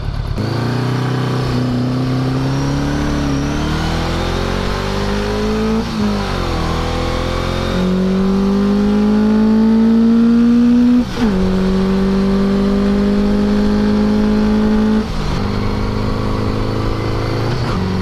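A Honda Gold Wing motorcycle cruises along the road, its engine a loud, steady drone heard from close by, rising in pitch with brief dips between gears, with no talking.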